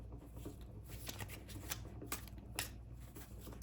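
Tarot cards shuffled by hand in a quiet room, a soft continuous riffle with a few sharper flicks and slaps, close and fairly faint.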